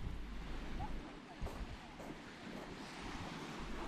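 Sea waves wash onto a late-afternoon beach near Cecina in Tuscany, a steady soft rush of surf mixed with wind buffeting the microphone, fairly faint and with no clear speech.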